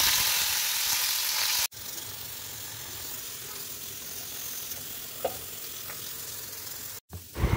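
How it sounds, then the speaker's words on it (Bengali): Fish curry frying in a hot wok: a steady, close sizzling hiss that runs almost without a break, cut by two brief drops to silence, with a faint stir or clink near the end. "মাছের ঝালটা চলো চটপট চাপিয়ে দিই, কেননা কড়াটা গরম হয়ে গেছে"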